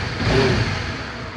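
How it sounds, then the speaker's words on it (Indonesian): A second-generation Honda CB150R motorcycle engine runs close by, a brief smooth mid-pitched hum that swells slightly, then settles into a steady idle. "Kita coba nyalain aja. Suaranya halus banget ya. Kita dengerin suara mesinnya."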